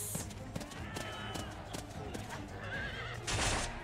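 A horse whinnies over a steady clip-clop of galloping hooves, with clanking and rustling effects mixed in, from the video game Octopath Traveler II.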